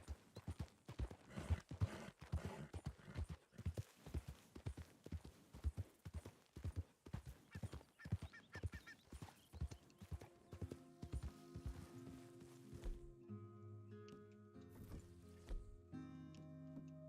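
A horse's hooves clip-clop at a steady walking pace while riding in Red Dead Redemption 2, clear and close at first. The hoofbeats then give way to sustained game music and ambience.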